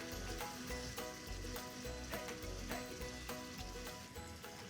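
Mutton with haldi and dhania powder fries in a pan, giving a steady, close sizzle with crackling spatter that carries on evenly throughout, heard without talk.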